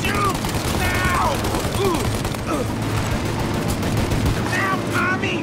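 Gunfire in the video game Mafia: Definitive Edition: rapid bursts of machine-gun and rifle fire crackle continuously under scattered shouting voices, with sharp ricochet-like whines throughout.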